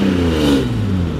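A BMW E30 convertible engine revs up and holds at a rough, throaty pitch, then eases slightly; loud and close, with no voices.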